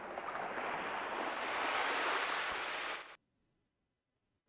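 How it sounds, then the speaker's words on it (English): Loud rushing water roars steadily in the Armored Core video game near an oil rig, a dense wash of noise like surf and wind that cuts off abruptly into silence. "Super loud water."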